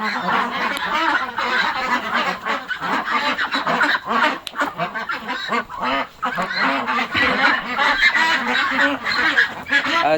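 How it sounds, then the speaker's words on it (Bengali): A large flock of ducks and geese on a duck farm quack and honk nonstop, loud and close, their calls overlapping throughout. "হাঁসের ফার্মে"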